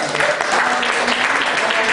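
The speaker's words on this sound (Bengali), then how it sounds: "আমরা কি তাকে একটু করতালি দিতে পারি?" A hall audience breaks into steady, dense applause for a volunteer at a February celebration at a New York community school. The clapping runs loud and continuous throughout, with some voices mixed in.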